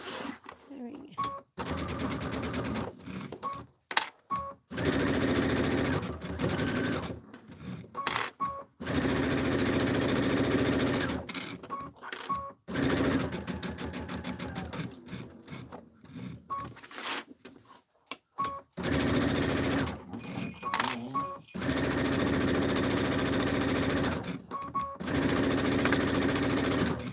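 Embroidery sewing machine stitching out a Kimberbell County Blooms pillow design, a steady fast mechanical whirring in long runs broken by short pauses, with a person talking over parts of it.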